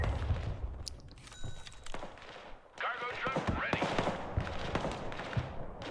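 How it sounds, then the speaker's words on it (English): Artillery fires in the video game Broken Arrow, with scattered booming shots and bursts of battle noise in a fast, cluttered mix, and voices talking over the din. "Yep, I'm firing artillery on this note."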